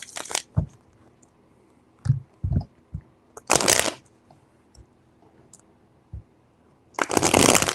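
Tarot cards are shuffled in several separate bursts of riffling, with a few soft taps and handling noises between them, close and clear with no talking.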